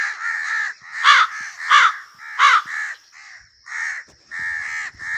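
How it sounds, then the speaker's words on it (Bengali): A crow caws repeatedly, loud and close, in a series of harsh calls with brief pauses between them. "সে গান গাওয়ার জন্য মুখ খুলে কা কা করতে যায়"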